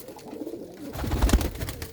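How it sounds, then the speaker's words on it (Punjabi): Pigeons, a paired cock and hen of a fancy breed, coo in a low, soft, throaty murmur close by, with a swelling coo near the end and no talk. "ਇਹ ਕਬੂਤਰੀ ਬੈਠੀ ਆ ਤੇ ਨਾਲ ਹੀ ਇਹਦੇ ਥੱਲੇ ਕਬੂਤਰ ਆ ਚਿੱਟੀ ਨੋਕ ਦਾ"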